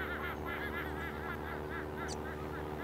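A cartoon duck honks and quacks in a steady run of close, nasal calls over a continuous background bed of music and noise.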